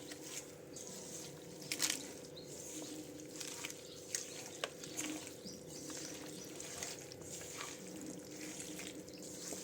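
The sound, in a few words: mixing chicken biryani ingredients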